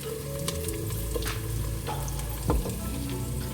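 Tomatoes, garlic and ginger sizzle and fry steadily in a pan while a masala is made for beef paya, with soft stirring clicks and scrapes over the continuous hiss.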